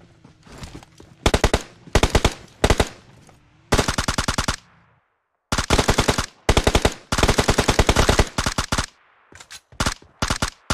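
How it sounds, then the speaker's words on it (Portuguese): Rapid automatic gunfire from a PUBG Mobile match, loud bursts of fast shots in several clusters separated by short pauses, close and dominant with no talk over it. "Eu tava atirando aqui pra frente, Gabriel."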